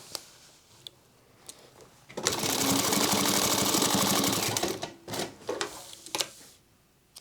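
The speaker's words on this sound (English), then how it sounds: "put it under the foot of the machine and run a bunch of forward and back stitching over it" A sewing machine runs a burst of forward and back stitching over a cord for a sling crossbody bag, a steady loud mechanical whir of about three seconds, with scattered clicks and handling knocks before and after it.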